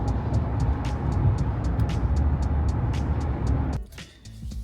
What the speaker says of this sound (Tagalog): Medyo traffic, pero moving naman.